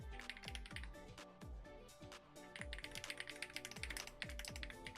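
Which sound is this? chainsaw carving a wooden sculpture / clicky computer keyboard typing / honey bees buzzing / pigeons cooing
clicky computer keyboard typing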